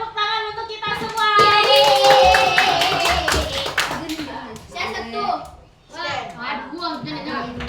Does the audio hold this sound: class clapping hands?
yes